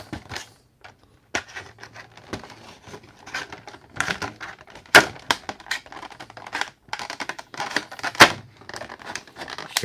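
A blade slices through a cardboard toy box in close-up: scraping cuts, crinkles and sharp tearing snaps come in irregular bursts, some loud, with short pauses between strokes.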